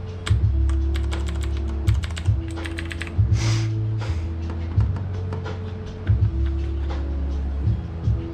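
Typing on a computer keyboard while trying to get into a PC's BIOS: bursts of quick, close key clicks and taps, with pauses between bursts, and no talk.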